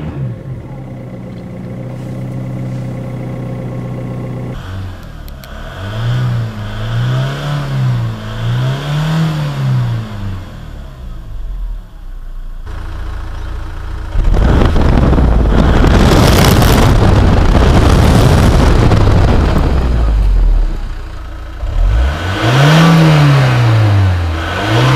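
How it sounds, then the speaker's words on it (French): A cold Opel Vectra 2.0 DTI diesel engine, 100 hp, on a freezing day, revs repeatedly in rising and falling swells, with a loud, roaring stretch midway and heavy wind buffeting the microphone throughout. "On va pas trop pousser là en régime parce que le moteur il est froid."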